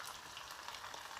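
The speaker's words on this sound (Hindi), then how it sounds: "चिकन इसके साथ फ्राई करना है।" Chicken frying in a pan with salt, red chilli, ground ginger, garam masala, crushed cumin and whole coriander, a steady soft sizzle heard up close and alone, with no voices.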